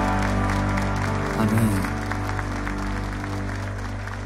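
A church congregation applauds during worship, a moderate wash of clapping over sustained music with a voice briefly speaking.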